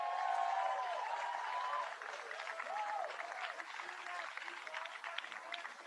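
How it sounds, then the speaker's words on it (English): Audience applause at a Pierce County, Washington celebration, a broad patter of clapping filling the space with a voice speaking over it throughout. "Round of applause for the First Amendment"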